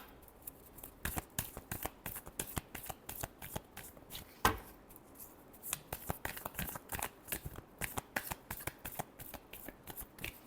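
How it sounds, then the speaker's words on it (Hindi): Tarot cards being shuffled by hand give close bursts of riffling and flicking snaps, irregular clusters with a sharper slap midway, and no talk. "Last shuffle."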